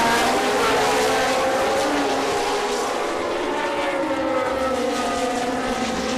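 Vintage race car engines rev hard at the start of a race, a dense, continuous roar with rising and falling engine pitches layered together, loud and steady throughout with no voices.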